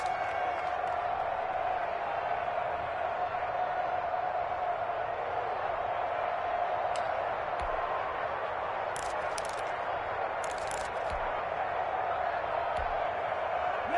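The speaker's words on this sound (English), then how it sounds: "the crowd getting into it as we come up on a big 3rd down" A stadium crowd in a football video game roars steadily throughout, a continuous dense wash of cheering with a few faint sharp clicks on top and no pause.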